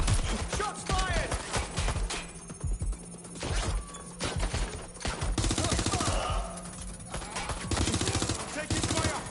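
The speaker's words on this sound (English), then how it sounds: "Shots fired!" Watch Dogs: Legion gunfire on PS5 rattles in dense automatic bursts and single cracks, loud and constant throughout, mixed with game noise and occasional voice callouts.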